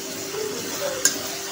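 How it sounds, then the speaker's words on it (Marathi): Masala for a samosa filling of fresh peas and potatoes sautés in oil in a pan, a steady close sizzle with light stirring and one sharp utensil tap near the end. "हे पहा, छान मसाला आपला परततोय।"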